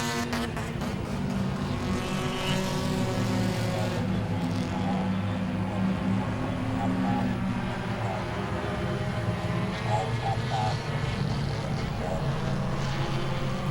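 Stock race cars in an enduro at Langley Speedway roar past on the oval, their engines droning loudly and continuously beneath a race announcer's commentary.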